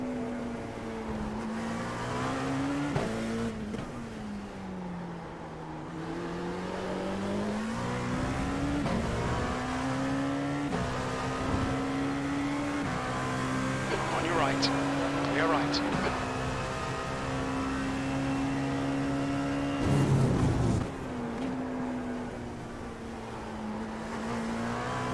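Dallara P217 prototype race cars in the iRacing sim at Silverstone whine and rev continuously, the engine pitch climbing and dropping through shifts as slower cars are passed, with a commentator talking over the engine noise.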